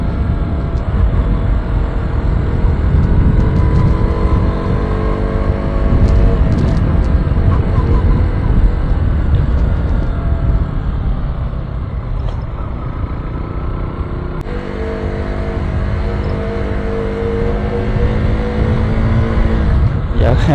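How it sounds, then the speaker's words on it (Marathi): A loud car engine drones continuously with a deep, rumbling exhaust note, rising and easing slightly as it runs, close and dominant throughout. "गाडीचा आवाज बघा ना कसा येतो. एकदम लाऊड."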